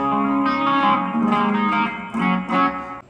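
Electric guitar played through a Korg AX3000G multi-effects unit with compressor, modulation and reverb, sustained shimmering chords swelling in a few phrases, close and loud, fading at the end.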